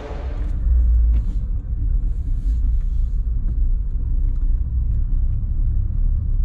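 A Lada Niva race car on off-road tires drives on the Nürburgring track. The engine gives a deep, continuous rumble, close and loud, with no voices over it.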